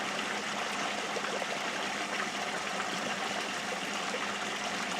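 Water runs steadily through a purpose-built gold trap sluice contraption, a constant, fairly faint broadband rush with no breaks, like a small stream.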